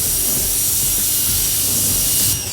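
Drying aid is sprayed onto a Mercedes GLE SUV in a loud, continuous, close hiss that cuts off abruptly near the end.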